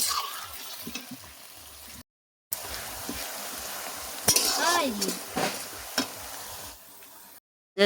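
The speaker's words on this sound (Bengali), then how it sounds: "পেঁয়াজটা দিয়ে দেবো, তেল গরম হয়ে গেছে।" Sliced onion fries in hot oil for chicken biryani with a continuous crackling sizzle, broken by brief silences, with occasional clinks and stirring scrapes from a utensil against the pan.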